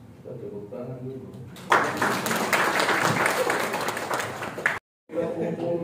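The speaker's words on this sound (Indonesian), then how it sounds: "Kita tepuk tangan dulu." A crowd at an early childhood education coordination meeting in Papua, Indonesia, breaks into sustained applause after a voice speaks, the clapping loud and dense for about three seconds before cutting off abruptly.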